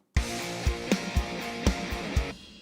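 Heavy, pitched-down electric guitar chords with bass and punchy drum hits in a steady rock groove, loud and close, ending with a ringing chord.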